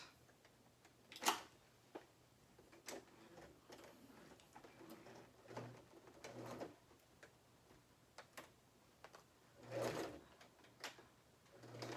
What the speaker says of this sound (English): Take it over to the sewing machine and I zigzag